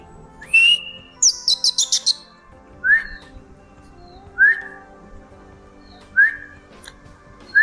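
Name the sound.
kacer (oriental magpie-robin) singing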